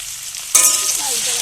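Rice frying and being stirred in hot mustard oil with black cumin seeds, a sudden loud sizzle that bursts in mid-clip and then holds steady, close up with no talking.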